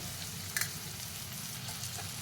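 Onion frying in a pan, a steady soft sizzle with a brief scrape of stirring near the middle, close and moderately quiet, no talk.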